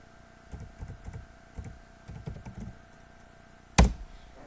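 A computer keyboard is typed on in quick clusters of soft keystrokes during a spreadsheet lesson, ending with one louder sharp tap, all fairly close with no talking.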